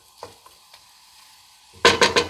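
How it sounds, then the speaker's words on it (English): Onion and garlic frying in olive oil give a faint sizzle with a few soft knocks, then three loud close stirring scrapes near the end, without any talking. "I feel like once it fries a little bit, it flavors the olive oil."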